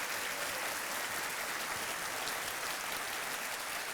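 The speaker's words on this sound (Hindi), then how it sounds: "तालियां बजती रही।" Studio audience applause on a quiz game show, a steady, dense wash of clapping held at an even level for the whole stretch, with no voices over it.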